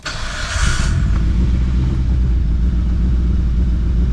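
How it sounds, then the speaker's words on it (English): A Mitsubishi Evo 8 engine fires up for the first time, running on a near-empty tank: a short cranking burst catches into a loud, deep, steady idle rumble close by. "we're gonna start this thing for the first time"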